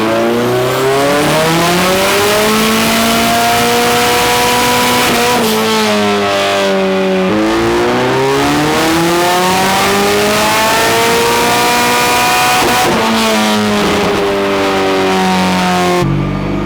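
Toyota AE86, Honda S2000 and Nissan S14 drift cars on a dyno: a loud, sustained engine revs up and down through rising and falling sweeps, with a brief drop near the middle, then cuts off abruptly at the end.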